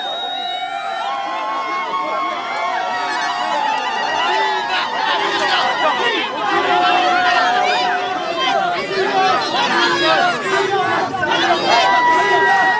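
Huge Eritrean crowd at a Tour de France stage in Brittany, loud excited chanting, shouting and cheering in a sustained roar of many voices.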